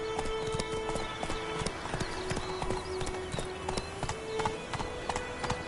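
Hooves of Geralt's horse Roach in The Witcher 3 clip-clop in a steady, even trotting rhythm. The footfalls are crisp and moderately close over a soft ambient background.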